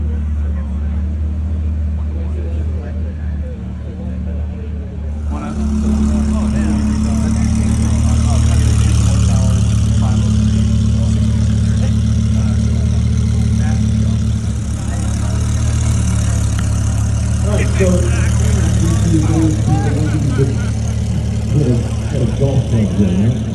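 Car engines idling at an outdoor autumn car show in Waveny Park, a steady low rumble that swells a few seconds in and holds, with people talking faintly in the background.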